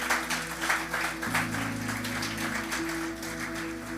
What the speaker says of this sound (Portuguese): Dá um aplauso para Jesus bem forte.